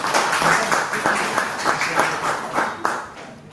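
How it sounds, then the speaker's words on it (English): A burst of clapping from a crowd, dense and steady for a few seconds, with a few louder individual claps standing out. "So a round of applause."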